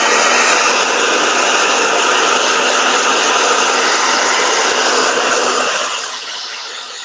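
A blow dryer runs close and loud with a steady, broad whooshing roar, then drops to a lower, softer setting near the end.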